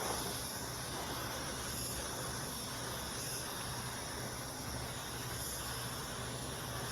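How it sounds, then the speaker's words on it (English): An HVLP spray gun lays a light tack coat of budget clear coat onto a car body, giving a steady, even hiss of atomized spray that runs unbroken and fairly close throughout, with no voices. "So just doing a quick little tack coat, introducing the new paint to the body."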